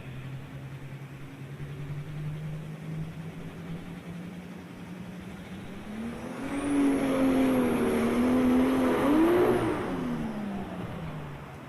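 Pulling tractor engine at a farm machinery show, a steady low drone that swells into a loud, sustained revving roar with wavering pitch midway, then eases back to a rumble.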